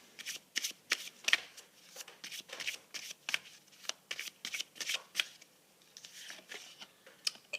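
Tarot or oracle cards, fairy-themed, shuffled by hand in a quiet room, a rapid series of crisp riffling flicks and soft slaps repeating in uneven bursts, close and clear with no talking.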